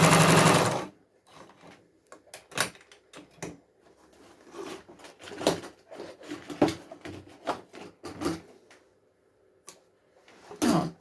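Jomita portable walking-foot zigzag industrial sewing machine stitching upholstery-weight fabric, with irregular bursts of mechanical clatter and ticking, close and moderately loud, after a loud burst at the start.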